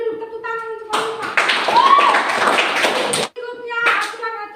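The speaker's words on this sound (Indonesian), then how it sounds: "tepuk tangan untuk Oliva" Schoolchildren in a classroom clap for a classmate, a dense burst of claps lasting about two seconds, with voices speaking or chanting just before and after.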